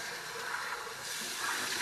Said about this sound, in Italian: Adesso, acqua fresca.